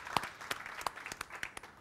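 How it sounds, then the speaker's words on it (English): Sparse, scattered handclaps from a small audience at the Meltingpot 2024 talk event: a handful of separate, fairly faint claps spaced irregularly rather than a full ovation. "let's give it a round of applause to both of those"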